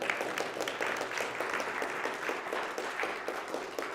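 Audience applause in a spiritual community gathering for the janitorial team, a soft, steady patter of many hands clapping, somewhat distant and evenly sustained throughout.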